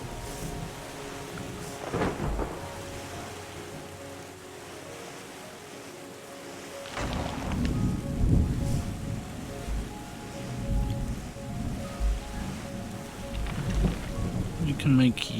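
Rain falls steadily in the video game Terra Nil, with rolling thunder cracks at about two, seven and eight seconds and a faint later rumble, under a soft steady patter.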